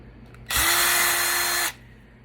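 A power screwdriver backing screws out of a vintage Western Digital hard drive, a single short whirring motor burst of about a second with a steady pitch, close and fairly loud, then stopping abruptly.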